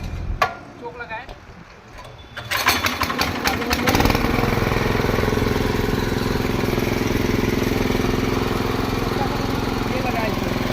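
A power weeder's engine catches after a choke start, with a pull-start rattle followed by a loud, steady, close running drone. A voice speaks briefly near the start.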